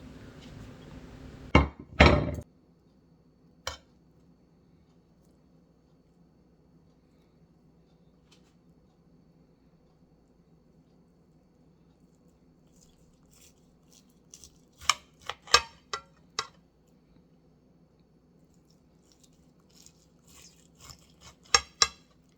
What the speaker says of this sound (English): So I'm going to slice them now and ready to serve.